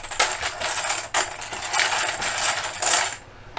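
Many small counters rattle and clatter continuously as they are mixed around inside a container during a half-life decay simulation, a dense close-up jangle with a few brief pauses and no talking.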